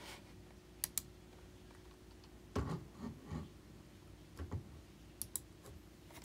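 A few scattered clicks from a computer mouse come faint and close, spaced irregularly over a quiet indoor background.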